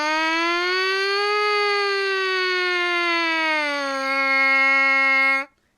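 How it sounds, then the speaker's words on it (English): A brassy buzzing tone, like a lone trumpet mouthpiece, glides up, sustains, then slides down in a slow siren sweep before cutting off. "We're gonna do mouthpiece sirens."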